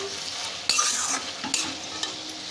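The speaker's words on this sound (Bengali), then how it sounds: "কিছুক্ষণ পর আমি ঢাকনাটা খুলে এবার একটু সবজিগুলোকে নেড়ে দেবো" Sambar vegetables and softened tomatoes are stirred in a sizzling pan, with a few sharp scrapes of the spoon against the pan over steady frying hiss, close and fairly loud.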